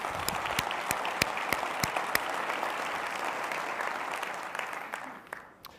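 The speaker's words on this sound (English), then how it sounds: "Anyway, round of applause for Wikitude." Applause from a conference audience for the award winner Wikitude at a BlackBerry developer event, a thick, even sheet of clapping with crisp nearby claps, gradually thinning and dying away at the very end.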